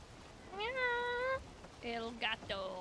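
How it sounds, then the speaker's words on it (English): A domestic cat meows in two bursts, first a long drawn-out yowl and then a series of shorter, rising meows, close and fairly loud with no talk over them. "my cat was yelling her head off"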